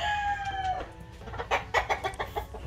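Albany gamefowl hens and roosters cluck nearby in a breeding pen, starting with a drawn-out call and then moving into a quick, rhythmic run of short, loud clucks.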